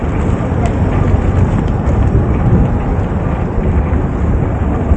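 Light drizzle falling outdoors on a cold day in Japan during a bike ride, a steady broadband hiss of rain that fills the whole stretch, loud and close, with no talk.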